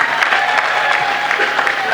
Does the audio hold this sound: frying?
no